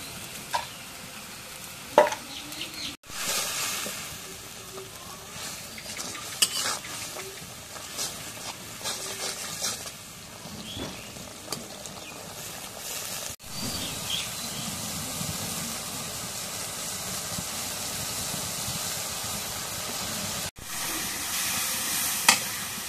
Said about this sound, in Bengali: এখন মশলাটা কষানি হয়েছে, এখন মাছ দিই।